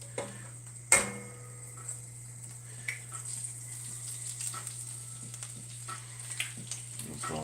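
Food frying in a pan, a soft steady sizzle under a low constant hum, broken by one sharp clack near the start and a few light scrapes and ticks, close and unaccompanied by talk.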